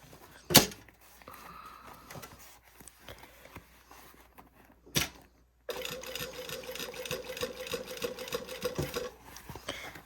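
A domestic sewing machine runs a continuous line of topstitching on a Style Arc Ziggi jacket after its lining is bagged, a steady whirring hum in the second half after a few scattered clicks and knocks, with no voices.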